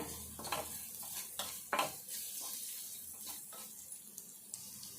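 Onion, green chilli and grated carrot fry in a pan with a steady sizzle, broken by several louder scraping stirs close by, and no one speaking.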